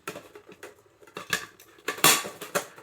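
Lightweight camping cooking set with a little kettle, bowl and pan being handled, giving a run of light metallic clinks and clatters, close by and alone.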